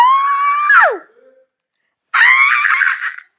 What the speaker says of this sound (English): That's why I'm screaming.